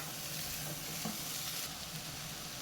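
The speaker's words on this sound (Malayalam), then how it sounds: "ഇനി ഇതെല്ലാം കൂടെ നമുക്ക് ഇളക്കി മിക്സ് ചെയ്തെടുക്കാം." Boiled chickpea chaat with chopped tomato is mixed in a bowl, giving a faint, continuous rustling and scraping of stirring with a soft hiss underneath and no speech.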